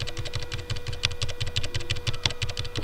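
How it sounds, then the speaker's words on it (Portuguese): Rapid computer keyboard typing during an online game, a steady run of close, sharp clacks with a few heavier key hits, alone and without talk. "Barulho do teclado."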